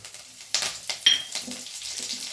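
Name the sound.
curry leaves added to hot oil, sizzling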